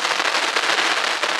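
Sivakasi firecrackers bursting in a rapid, continuous string of sharp gunshot-like cracks, loud and close, with no pause between pops.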